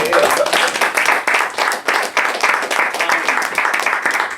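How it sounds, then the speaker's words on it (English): Audience applause at a community engagement gathering in a cafe, a dense steady clatter of many hands clapping, loud and close, sustained across the whole stretch with faint voices mixed in. "a round of applause for Kelly."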